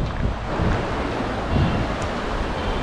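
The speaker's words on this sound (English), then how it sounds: "Checking out the Two Portage waterfall." Two Portage waterfall on the Missinaibi River, a steady broadband roar of rushing whitewater, loud and continuous throughout with slight swells and no speech.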